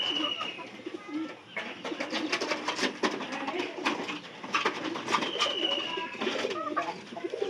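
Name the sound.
pigeons cooing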